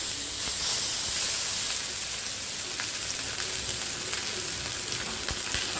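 Fish frying in a pan with curry leaves for a Kerala-style banana leaf fish fry, a loud, continuous sizzle and crackle with small pops scattered throughout, close up and with no voices.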